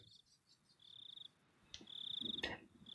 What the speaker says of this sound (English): So, you hear cicadas.